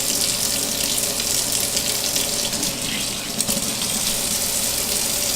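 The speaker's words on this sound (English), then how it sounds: "you're just going to squeeze the soap out and just wash it through again" Steady rush of running tap water splashing into a sink as a soapy makeup brush is rinsed under it, continuous and close with no voices.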